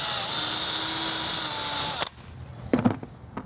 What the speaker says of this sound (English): I'm gonna drill out some holes